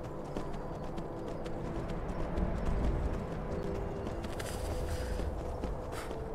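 Hooves pound in a fast, continuous rush as a horse gallops through the Skyrim video game, the dense, loud drumming filling the whole stretch with no voices over it.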